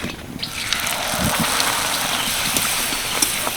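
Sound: hing kachori frying in hot oil

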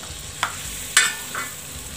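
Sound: stirring red chili and spices into pav bhaji in a pan

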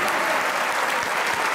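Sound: audience applause

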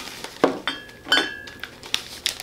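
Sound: glass Mountain Dew bottles clinking

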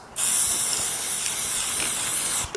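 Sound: spray paint can spraying anthracite lacquer onto OSB board

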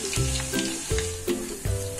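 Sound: chicken frying and sizzling in oil

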